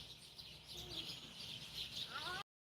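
Outdoor birds, in a spot where great-tailed grackles gather, keep up a busy stream of high chirps and chattering calls. A brief rising whistle comes near the end before the sound cuts off.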